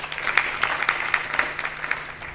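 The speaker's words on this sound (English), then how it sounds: "Please give her a round of applause." Audience applause at a media students' conference, a steady wash of many hands clapping with a few sharper claps standing out, moderately loud and continuous for a couple of seconds with no talking over it.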